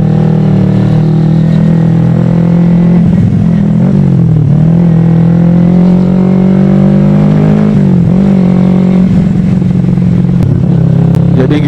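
A carbureted Kawasaki Ninja 250 motorcycle engine idles loudly up close and revs several times, its pitch rising and dropping back in repeated throttle blips.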